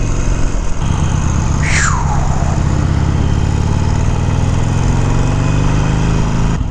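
A motorcycle engine downshifting as the rider comes to a stop, a close, loud, steady engine drone with a brief rising-and-falling whine in the middle, recorded through a helmet Bluetooth setup.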